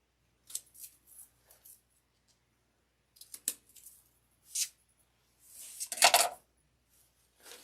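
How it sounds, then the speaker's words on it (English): Cutters snip floral wire for a wall hanger in a few short, quiet, crisp clicks spread apart by silence, ending in a louder burst of handling and snipping. "This one doesn't have the best wire in it, so I'm going to cut that one down."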